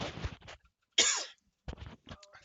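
A single person coughs during a tabletop card game session, one short harsh burst between quiet stretches, close to the mic, followed by small rustles and faint murmurs.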